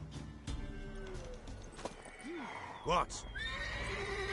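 A mare whinnies in The Witcher 3, a rising-and-falling neigh close by, with a hoof clop and a second shorter whinny, mixed with brief game dialogue.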